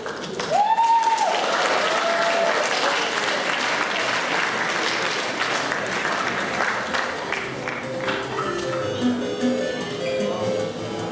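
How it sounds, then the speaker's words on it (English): Audience applause fills the room after a school Purim play put on by prefects, steady sustained clapping from a large crowd with a brief whistle-like tone early on and scattered cheers. "A big round of applause, ladies and gentlemen."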